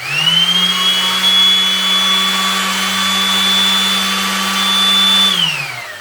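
An electric sander whirs at a steady high pitch for several seconds, close and continuous, then winds down as it switches off.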